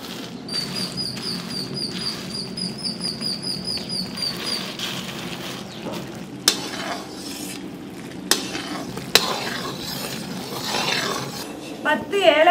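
Jaggery syrup for peanut chikki bubbles gently in a pan while a utensil stirs and scrapes through it, a soft continuous simmer broken by a few sharp clinks against the vessel.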